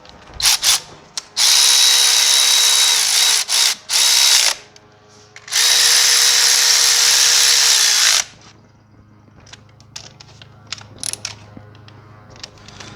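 Power tool driving engine bolts tight on a 2008 GMC Acadia during an engine and transmission install, with two long loud whirring runs and a few brief bursts, followed by quieter clicks and handling noises.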